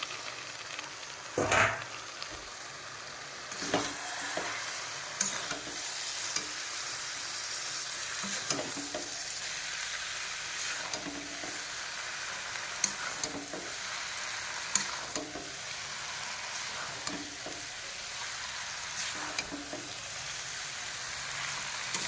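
Chowmein stirred and frying in a pan: a steady close sizzle broken by repeated scraping stirring strokes at a fairly regular pace, with no talking.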